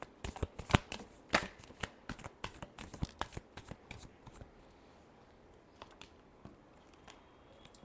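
Tarot cards being shuffled in quick riffles and taps, dense at first and then sparser with a few final snaps.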